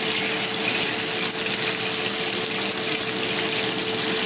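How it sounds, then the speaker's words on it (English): Pieces of beef steak sear in hot oil in a small pot, a dense, constant sizzle at close range, steady and loud with no pauses or voices. "once your oil is nice and hot, we're gonna just take each pieces of this and just let them sear in the pot."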